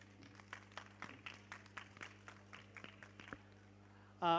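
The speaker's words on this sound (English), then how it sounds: "This round of applause should be for you guys, not for me" Audience applause at a school careers day in Lucknow, a small crowd clapping in scattered, fairly quiet claps over a steady electrical hum, cut off by a brief tone at the end.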